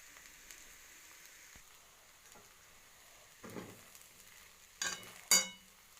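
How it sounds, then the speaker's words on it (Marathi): Soaked sabudana is stirred in a pan with crushed peanuts, mostly a faint low crackle with a few louder scraping sweeps of the spoon toward the end, and no one speaking. "आता मी व्यवस्थित शाबू हलवून घेते आणि त्यात शेंगदाण्याचं कूट घालते।"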